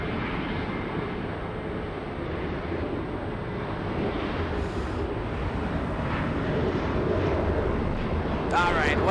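A WestJet airliner departs Los Angeles with a steady, broad jet roar that persists throughout the clip, with faint voices underneath.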